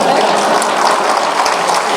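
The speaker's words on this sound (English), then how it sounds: "You can clap" Gala audience applause fills the room, a dense, steady wash of many hands clapping at a constant level without pause.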